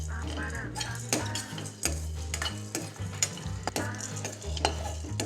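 Spices dry-roast in a pan, stirred with a utensil that scrapes and clinks against the metal in a repeated rhythm, with a faint low sizzle underneath and soft background music.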